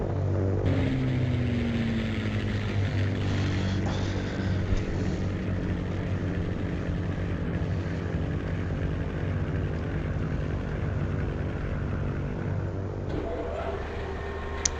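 Propeller fighter plane droning steadily in the Crimson Skies video game, a loud continuous engine hum with a steady low tone and a slight pitch shift near the end, no voices over it.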